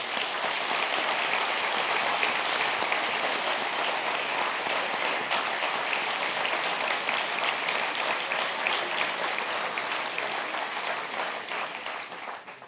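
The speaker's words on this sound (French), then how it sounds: "inviter les participants à se féliciter par un applaudissement général" Sustained general applause from a large audience of participants at the closing plenary of a natural regional parks federation congress, dense and steady throughout before easing slightly at the end.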